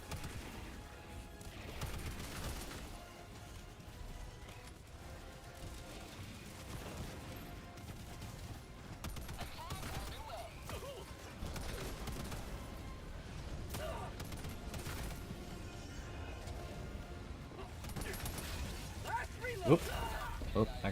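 Video game weapon fire while shooting enemies at close range: repeated gunshots and bursts crack and pop among impact noises, with a person talking over the action throughout.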